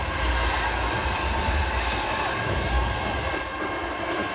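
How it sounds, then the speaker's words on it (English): A large crowd roars in an indoor arena at a professional volleyball match, a loud, dense, continuous rumble of many voices without a break. "Just listen to the roar here for 3 seconds."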